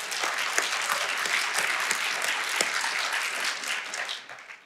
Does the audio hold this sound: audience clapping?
yes